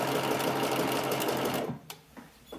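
Sewing machine zigzag stitching stretched lace onto lingerie fabric, a close, fast continuous motor buzz with rapid needle chatter for about a second and a half, then stopping abruptly, leaving a few faint handling knocks.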